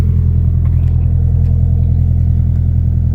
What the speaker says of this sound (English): I think the engine sounds a little bit healthier, a little bit happier